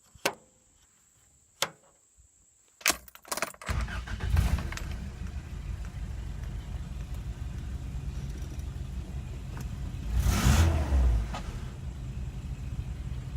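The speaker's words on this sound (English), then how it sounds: "The motor started right up on all 4 cylinders, which it has not done in a long time. It just fired right up." A car engine, just back together after a head gasket repair, cranks and fires after a few clicks and clinks, then settles into a smooth, steady idle close by, briefly revving once.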